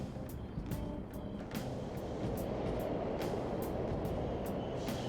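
A subway train rumbles in the video game Persona 5 Royal, a steady low roar with faint rhythmic clicks, fairly quiet and continuous throughout with no voices.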